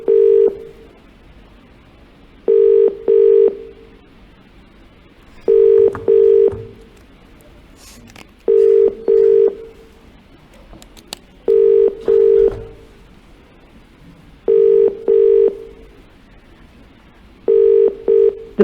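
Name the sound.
phone call ringing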